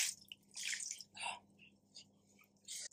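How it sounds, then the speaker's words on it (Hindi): Boiled macaroni tipped into a colander to drain, giving soft intermittent splashes, drips and wet squishing bursts, fairly quiet with short pauses between pours. "अब हम इसको इस छलनी में डालेंगे ताकि इसमें से पूरा का पूरा पानी"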